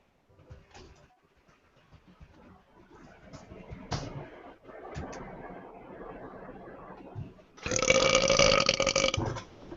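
A loud, long belch erupts near the end, following quieter talk and background noise, one drawn-out rumbling burp close to the microphone.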